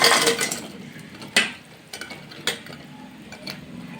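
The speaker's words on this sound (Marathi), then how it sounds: "आता हे पाकात टाकून घेऊया" Fried gulab jamun dropped one by one into sugar syrup in a home kitchen, giving several short, sharp splashing knocks at an uneven pace over a faint background hiss.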